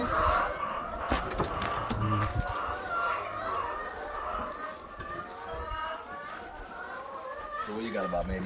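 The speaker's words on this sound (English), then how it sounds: "But these are our chickens, look." Hundreds of chickens clucking and squawking on a Ghanaian poultry farm, a dense close chorus of overlapping calls, with people talking throughout.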